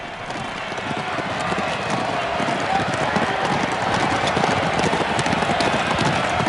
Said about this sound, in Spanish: la ciudad del Palio, una carrera de caballos que se celebra en la Piaggia del Campo